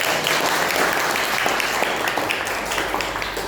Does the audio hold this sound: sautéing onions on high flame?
no